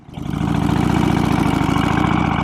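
Steady, loud running of a custom Harley-Davidson FXR Knucklehead motorcycle engine, a deep rumbling throb with even pulsing that swells in over the first half second and then holds close and constant, with no voices.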